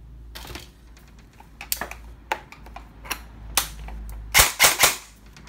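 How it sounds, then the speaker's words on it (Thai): An upgraded E&C 316 electric airsoft gun firing 0.20 g BBs gives scattered sharp clicks and single shots, then a loud rapid burst of close cracks at the end, with no speech. "เดี๋ยวเรามาดูความแรงแล้วก ็ดูเรทกระสุนกันนะครับ"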